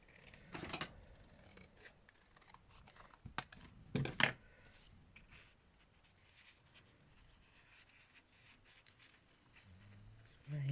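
Scissors snip paper for a garden junk journal, a few quiet, brief crisp cuts and rustles scattered over a faint, hushed background.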